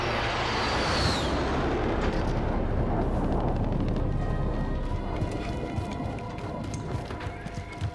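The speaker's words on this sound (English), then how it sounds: "As I get taken out by the precision enemy airstrike." Enemy precision airstrike in Call of Duty Modern Warfare, heard as loud, dense, rumbling explosion blasts filling the whole stretch without pause, slowly thinning toward the end.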